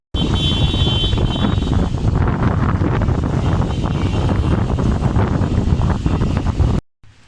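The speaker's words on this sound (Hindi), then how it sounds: "ये देखें एकदम तेज़ हवा से बारिश स्टार्ट हो गई है।" Loud, gusty wind roars steadily with rain lashing down, a dense rushing noise that cuts off abruptly near the end.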